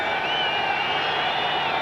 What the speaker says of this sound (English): the Ram crowd